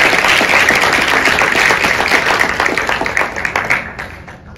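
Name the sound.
audience applause for competition judges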